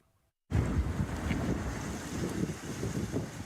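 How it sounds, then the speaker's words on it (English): Storm Goretti winds roar along the Kent coast at Sandgate Esplanade near Folkestone, with heavy surf crashing and mic-buffeting gusts in a loud, continuous wall of noise that starts abruptly after a moment of silence. "Storm Goretti's huge waves smashed into cars and left roads flooded"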